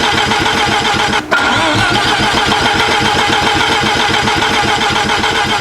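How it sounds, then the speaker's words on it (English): An engine cranking over to start, a rapid steady chugging rhythm close and loud, broken by a brief pause early on before resuming without firing. "we will start cranking"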